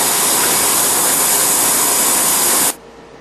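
A CNC machine drilling holes in a Bradley GT II tilt hinge gives a loud, even hissing roar that cuts off abruptly near the end, leaving a faint low hum.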